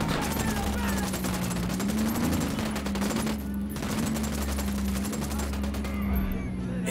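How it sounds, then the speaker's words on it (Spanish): Sustained rapid gunfire at enemies in Ghost Recon Wildlands rattles continuously and loudly, dense machine-gun-like bursts with a steady droning hum underneath and a brief lull near the middle. "Disparando al enemigo."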